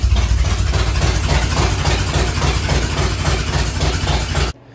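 A budget Ford Foxbody engine runs on open shorty headers with no exhaust attached, a loud rough throbbing idle close by that cuts off abruptly near the end.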